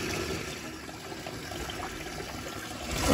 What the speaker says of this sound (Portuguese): Olha, colocando água na mão.